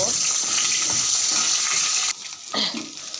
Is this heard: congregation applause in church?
no